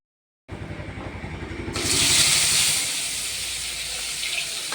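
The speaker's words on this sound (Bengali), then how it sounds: "তো আমি এখানে মাছ ভাজা শুরু করে দিয়েছি।" Rohu fish pieces go into hot oil in a wok. A softer run of bubbling hiss swells abruptly into a loud, bright sizzle that then holds steady, close by and without speech.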